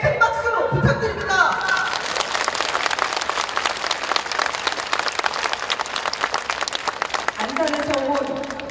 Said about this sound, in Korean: 모두에게 큰 박수 부탁드립니다